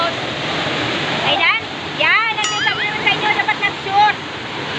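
The first falls of 14 Steps Falls near New Ibajay, El Nido, Palawan rushes steadily beneath loud, excited voices and shouting from a family on an outdoor hike.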